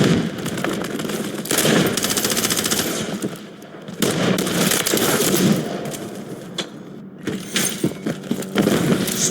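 Sustained automatic gunfire rattles through a military shooter video game, bursts overlapping into a dense, loud barrage with brief lulls and scattered metallic clatter.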